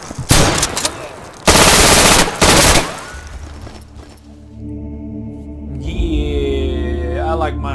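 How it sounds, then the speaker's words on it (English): Shotgun blasts in the video game Insurgency, loud and close, with several sharp bursts in quick succession followed by quieter game ambience and mechanical handling noise. "Let's try out this shotgun."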